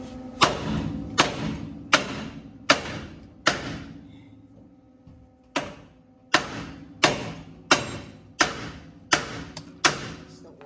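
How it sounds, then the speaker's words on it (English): A hammer knocks ball joints loose on a 1955 Chevy Bel Air, with about fourteen sharp metallic strikes in an uneven rhythm, each ringing briefly. The blows fall in two bursts split by a short pause and sound close and loud. "we're gonna try to knock these ball joints loose"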